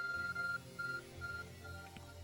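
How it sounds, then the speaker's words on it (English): Arc phone in Pokémon Legends: Arceus beeping, a faint high electronic tone repeating in short pulses over soft background music. "Your ARC phone is beeping."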